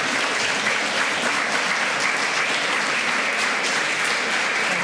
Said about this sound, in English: If everybody could give a round of applause,